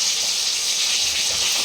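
Small rohu fish, chara pona, fry in oil with a loud, continuous close-up hiss and crackle that stays even and unbroken throughout the short moment.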